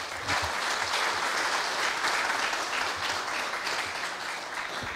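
An audience applauds after a presentation at a Korea University KU-MAGIC project preview event, sustained even clapping from a large crowd, loud and continuous throughout.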